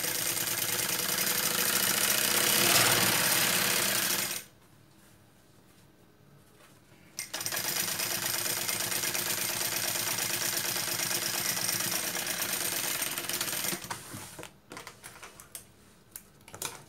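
A sewing machine stitching a fabric bag runs with a steady, close mechanical whir, stops for a few seconds of near silence, then starts again and runs before tapering off in short bursts.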